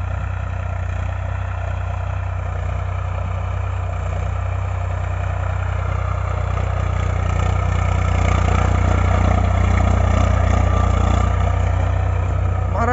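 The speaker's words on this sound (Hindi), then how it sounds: "कैसा साउंड है ट्रैक्टर का, कितनी मिठी आवाज़, कितनी प्यारी आवाज़ में कितना बढ़िया टीलर खींच रहा।" A Swaraj 744 FE tractor engine runs steadily while pulling a tiller through a field, a continuous loud low rumble with a constant, even drone and no pauses.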